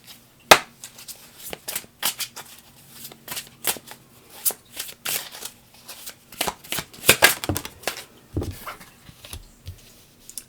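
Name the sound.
tarot cards being shuffled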